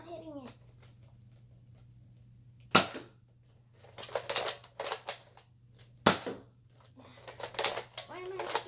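Sniper rifle shots in Call of Duty crack out twice, sharp and loud, a few seconds apart, amid a busier stretch of smaller game sounds and a faint steady hum, with a person talking in between.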